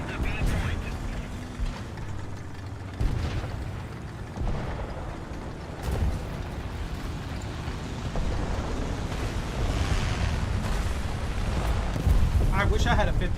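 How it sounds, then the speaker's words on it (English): Explosions and artillery fire in the War Thunder combat game: repeated booming blasts and sharp bangs over a dense rumbling battle din, some loud and close, others distant, with a person talking over them. "That's a lot of explosion I'm hearing."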